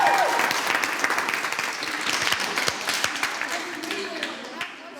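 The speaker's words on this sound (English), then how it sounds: "I think you all should give yourself a big round of applause because you've been brilliant." Group applause for a set of trainees, a dense, steady wash of many hands clapping close by for about five seconds, with faint voices mixed in.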